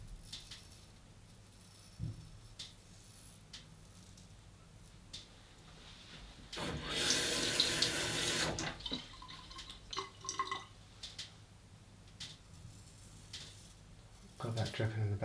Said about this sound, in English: Got that dripping in the background.